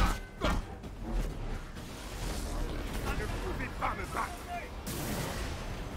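Heavy booming cannon blasts and impacts from a battle in Marvel's Avengers, with rumbling effects and a voice talking over the noise.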